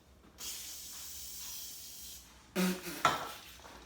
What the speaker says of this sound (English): it was setting spray